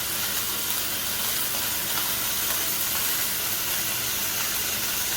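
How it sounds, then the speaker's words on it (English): Chicken stir fry sizzling in a hot pan as it is stirred, a steady bright hiss throughout with no one talking. "the trick with the stir fry is to keep everything moving"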